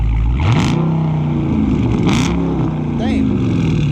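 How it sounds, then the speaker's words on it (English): A loud, throaty V8 engine of a 2019 Dodge Charger Scat Pack with muffler delete revs hard a couple of times, rising and falling in pitch over a deep idle rumble, close by. "Give it a couple revs."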